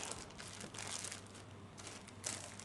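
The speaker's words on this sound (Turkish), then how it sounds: "Sonrasında bunu bir poşete koyuyoruz. Saklama poşetleri var ya onlara koyuyoruz bu şekilde. Evet katlıyoruz." A plastic food storage bag being folded and crinkled by hand, close and quiet, with a steady crackling rustle and a few louder crinkles, no talking.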